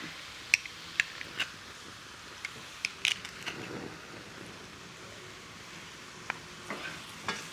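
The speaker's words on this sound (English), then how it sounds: "Mix that garlic in." Crushed garlic is stirred into a pan of cooking oil while making a summer lasagne, giving a quiet, steady soft sizzle broken by sharp scrapes and taps of a utensil against the pan.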